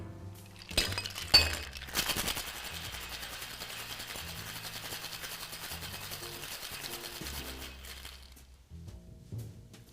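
A cocktail shaker full of ice is shaken hard, giving a loud, continuous rattle and clatter of ice against metal with a few sharp clinks at the start before it settles and stops.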